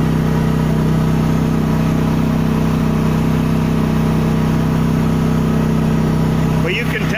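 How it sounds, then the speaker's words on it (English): A Chinese mini excavator's engine running steadily under hydraulic load, a loud, close, constant drone with a strained tone throughout, with a brief disturbance near the end. "the engine wants to stall out more easily. More pressure takes more power."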